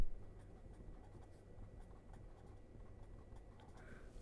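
Handwriting a fraction with pen or chalk during a maths lecture on limits and ratio tests, a faint continuous scratchy scribble with small strokes over steady low background hum, no talking.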